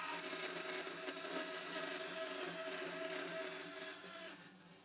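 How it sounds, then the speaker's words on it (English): Steady, loud power-tool whine of a bandsaw cutting a wooden workpiece in a workshop, running continuously before easing off at the very end. "and then I cut it at the bandsaw"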